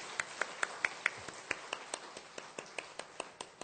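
Evenly spaced handclaps from a small church congregation at a Korean youth-group service ring out in a steady rhythm, crisp and moderately near, then gradually thin out.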